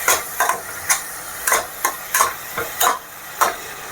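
Onions frying to brown in a pan for chole, with rhythmic spatula stirs scraping about every half second over a soft steady sizzle.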